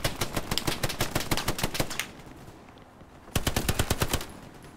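Rapid submachine gun bursts from the MP in the shooter game Hell Let Loose: two long strings of fast, evenly spaced shots, loud and close, broken by a short quiet gap before the second burst.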